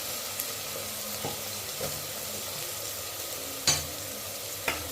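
Onions sizzle and fry steadily in a pan for mutton biryani, with a few sharp clinks of a spoon against the pan scattered through the continuous hiss.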